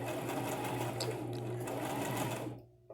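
Sewing machine stitching fabric around the outline of a miniature heart-shaped pillow, a steady close, fast mechanical whir that runs continuously and then stops abruptly near the end.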